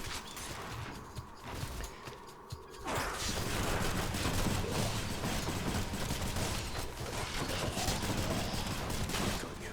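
Dense, sustained rail gunfire from Ricochet Fire in Hades, a continuous rapid stream of shots running without pause from about the third second after a quieter, busier opening.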